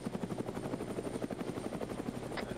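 Rhythmic rotor thumping of a helicopter in the military video game Arma 3, a steady close beat with a turbine whine above it, loud and continuous with no voices.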